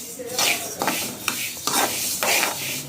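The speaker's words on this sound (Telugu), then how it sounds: "నేను నువ్వులు వేయించుకుంటున్నాను చూడండి" Sesame seeds are dry-roasted and stirred in a pan, giving repeated scraping, rattling strokes at a steady rhythm about twice a second, close and fairly loud with no talk.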